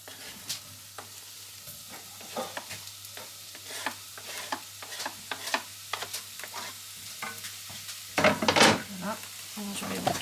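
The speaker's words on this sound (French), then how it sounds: "on fait revenir les oignons" Onions sautéing in a pan for lasagne, heard as steady scraping and stirring strokes with a low sizzle, ending in a louder burst of frying, close by and without speech.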